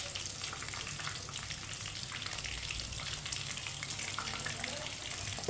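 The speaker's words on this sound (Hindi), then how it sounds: "मीडियम आंच पर इसे फ्राई करना है, फुल आंच नहीं करनी।" Chicken frying in a pan over medium heat, giving a steady, even sizzle that runs unbroken throughout with no talking.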